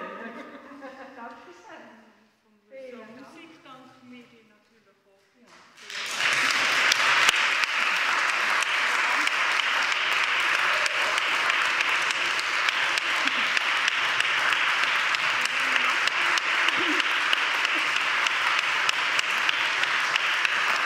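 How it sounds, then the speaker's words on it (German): Warm audience applause after a family serenade concert rises abruptly and holds as a steady, dense wash of clapping, preceded by a few seconds of speech. "Herzlichen Dank für den warmen Applaus."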